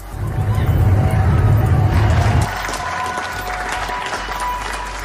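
Crowds applaud health workers during the COVID-19 pandemic, with sustained clapping and crowd noise over a low rumble that cuts abruptly to a thinner, more distant scene of clapping and cheering.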